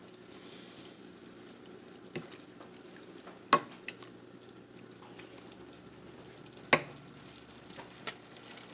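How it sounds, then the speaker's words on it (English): Grapeseed oil simmering in a pan while making a vegetarian Mediterranean pasta, heard as a faint, soft crackle with a few sharper clicks and knocks scattered over the quiet background. "And just let that just simmer just a little bit longer."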